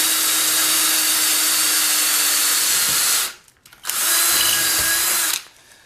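A power drill whirs steadily for about three seconds, cuts out briefly, then runs again in a second sustained burst driving a screw while mounting a TV antenna to a pole, before stopping.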